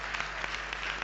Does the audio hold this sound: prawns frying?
no